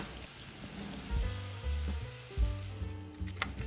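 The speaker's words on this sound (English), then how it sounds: "flip the jeon and fry the other side for 3 minutes" A Korean potato pancake with chopped vegetables and sesame seeds frying in a pan, giving a continuous close sizzle broken by a few louder bursts as it is moved or turned.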